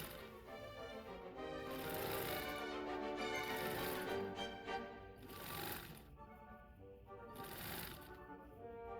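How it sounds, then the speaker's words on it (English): A domestic sewing machine runs in bursts while understitching the waistband of a plaid half circle skirt, a close, rapid mechanical whir that speeds and pauses across several seconds. "Now I am just doing my understitching on my waistband so that the inside remains on the inside"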